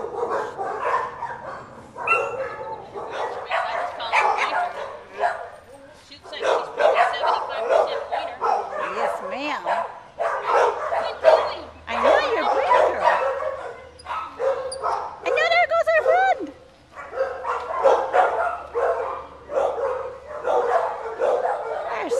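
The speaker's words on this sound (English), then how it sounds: "There's a bunch of barking doggies here." Several dogs barking and yipping repeatedly in close, irregular bursts, with some whimpering, heard alongside a person speaking.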